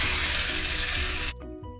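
Mustard seeds, urad dal, cumin and curry leaves sizzling in hot oil, a loud dense hiss that cuts off sharply near the end, leaving quiet clinks.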